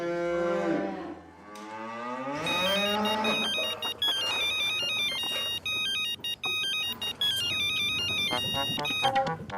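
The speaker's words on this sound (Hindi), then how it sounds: "मैं नाथा काका को फोन करता हूँ।" A phone ringtone plays loudly, a bright repeating electronic melody that follows a brief warbling, sliding tone at the start.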